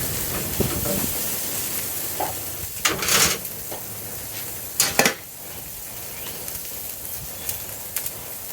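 A ribeye steak sears over open gas flames, a steady hiss with brief louder flare-ups of roaring fire and sizzle, no voices.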